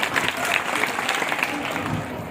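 Audience at a school farewell party applauds with steady, moderately loud clapping while a voice talks over it.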